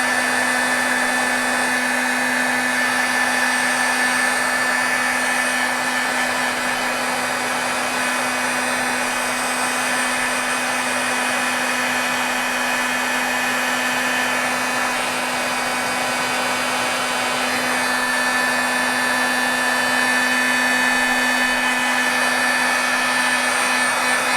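A heat tool blows steadily to heat-set Brilliance Starlite Silver ink on a stamped card, making a continuous close whooshing hum with a fixed motor whine that runs unbroken throughout, with no talking.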